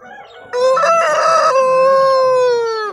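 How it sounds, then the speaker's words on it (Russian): A rooster at a poultry fair in Kropotkin, Russia, crows once loudly and close by, a single long drawn-out call that tapers off at the end, with faint crowd murmur beneath. "Только кукарекают."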